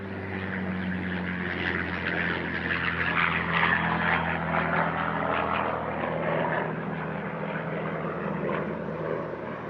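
A Spitfire, the World War II fighter, drones past overhead with a steady, broad piston-engine roar that swells slightly toward the middle and stays loud throughout, with no talk.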